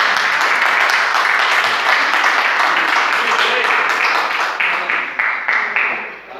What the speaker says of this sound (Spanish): ¿Por qué no le da un aplauso a Dios, hermanos?